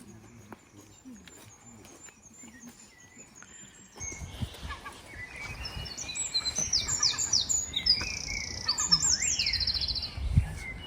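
Loud, high-pitched squeaky bird calls ring out repeatedly over rustling background noise, growing busier and more insistent toward the end.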